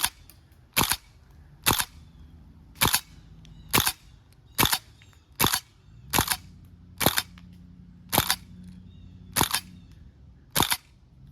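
Tokyo Marui Saiga-12K airsoft shotgun fitted with a drum magazine firing its three-BB bursts: eleven sharp, evenly spaced cracks at close range, each a short snapping pop with a quiet mechanical hum between shots and no talking.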